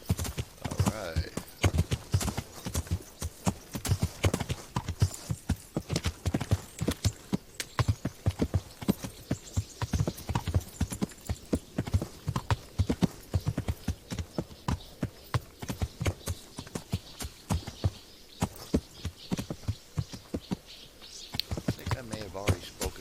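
Horse hooves clip-clopping in the medieval video game Kingdom Come, a rapid, even stream of close hoofbeats lasting throughout, with someone talking over parts of it.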